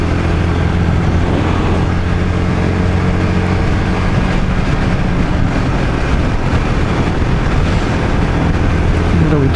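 A Royal Enfield Guerrilla 450 motorcycle cruises in sixth gear at 100 km/h around 5,000 rpm, a steady loud engine drone buried under heavy rushing wind noise.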